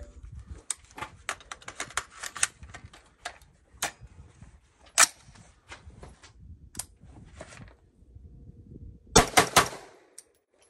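An AR-15 rifle fitted with a KM Tactical 20-inch marksman upper fires a string of sharp, loud outdoor shots at irregular intervals, with a quick cluster of reports near the end and faint ticking and handling sounds between.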